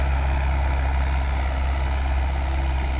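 A Mahindra 575 tractor pulling a tiller at full depth through a wet field, its engine droning loud and steady with a deep low rumble and no pauses.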